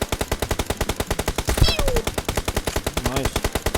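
Rapid automatic gunfire in PUBG on the Erangel map, a fast, even stream of sharp shots with a brief louder burst midway, while players talk over it.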